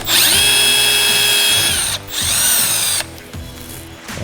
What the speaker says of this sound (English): I'm gonna go ahead and drill a pilot with a 1/16 inch drill bit